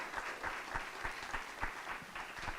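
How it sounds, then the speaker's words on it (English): A crowd at a Queens borough president's event claps for a vaccination milestone, a steady patter of scattered hands at moderate distance, fairly faint, with no talk over it. "Come on, let's get a clap for that."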